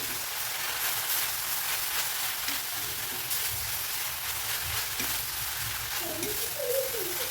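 Grated coconut sautéing in a pan with greens for a pepper-tomato keerai poriyal, giving a steady soft crackling sizzle throughout, close by, with occasional stirring scrapes and no voices.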